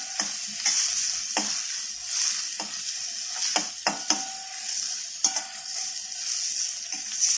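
Onion and green chilli sautéed in a pan for a soaked-lentil zunka, a steady bright sizzle broken by sharp clicks and scrapes of the spatula at irregular intervals, close up with no voices.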